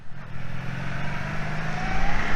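Motorcycle engine at low throttle, loud and close with a throbbing, uneven low rumble that builds slightly toward the end, no talk.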